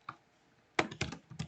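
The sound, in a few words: typing on a computer keyboard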